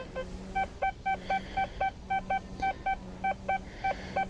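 An XP metal detector gives repeated high, beeping signal tones over a buried costume pendant, short regular chirps with a steady pulsing rhythm, close and clear.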